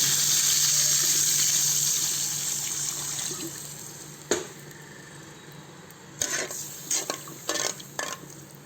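Water poured into a pan while making vermicelli upma, a steady rushing pour at first that fades, followed by a few sharp clatters and stirring sounds close by.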